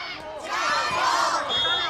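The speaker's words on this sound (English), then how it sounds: "Crowd are loving it" Spectators at a canoe polo world championship match cheer and shout together, a sustained, fairly distant roar of many voices that swells in the middle.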